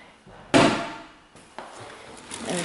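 Drawers in a modern apartment kitchen being opened and closed, two distinct sliding thuds with a sharper knock first, followed by fainter rustling, heard close with no talk.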